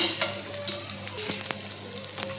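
Eggs frying in oil for spicy egg bhurji, a busy close sizzle broken by scraping stirs and occasional light clinks of a utensil against the pan, with no speech.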